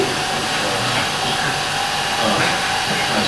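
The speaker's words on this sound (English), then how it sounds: "This is my homemade vacuum, but the diffusion pump is" Homemade vacuum system with a diffusion pump running, a steady loud hiss and whirring drone with constant broadband noise and no variation or speech.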